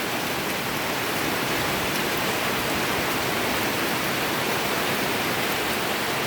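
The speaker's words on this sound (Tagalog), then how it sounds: "Ayan, oh, lakas ng ulan." Heavy rain pours outdoors over a rural spot near flooded rice paddies, a dense, unbroken hiss of downpour that stays loud and even throughout.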